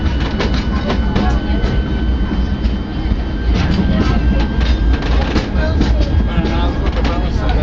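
The Disneyland Railroad steam train runs steadily, its close, loud rumble and rhythmic wheel clatter continuing without a break, with a faint murmur of passengers underneath.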